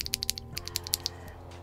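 Quick clicky keystrokes on a Leobog K81 mechanical keyboard fitted with milky switches, a dozen or so sharp poppy taps in an irregular typing rhythm, close and clear with no voices.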